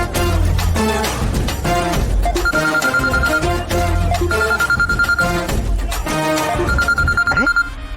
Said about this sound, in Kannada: ಗೋಡಂಬಿಗೆ ಫೋನ್ ಮಾಡಮ್ಮ.